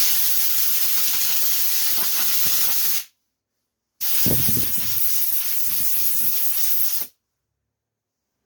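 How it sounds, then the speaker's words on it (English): An air compressor blows dust out of sandpaper during block sanding of primer on a Ford Escort MK1 restoration, giving two loud, sustained bursts of rushing air, each about three seconds long, separated by silence. "using the compressor to clean out the sandpaper"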